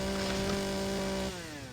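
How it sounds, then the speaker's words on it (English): A chainsaw in the video game Empyrion Galactic Survival buzzes with a steady droning tone for about a second, then its pitch drops and it winds down. "we used the chainsaw."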